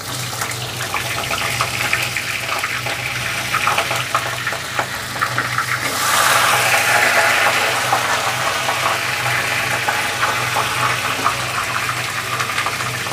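Fish heads drop into hot mustard-oil tempering in a pan for a Bengali moong dal, setting off a steady, loud sizzle that swells sharply midway and keeps hissing and crackling close by.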